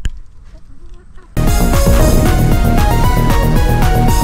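A rooster at a portable chicken coop, a brief clucking call after a quiet moment, then loud music abruptly takes over and drowns it out.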